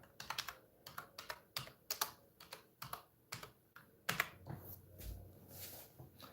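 Typing on a computer keyboard, a fast run of crisp clicks in short bursts with brief pauses, close and quiet, then a few heavier key presses and a rustle at the end.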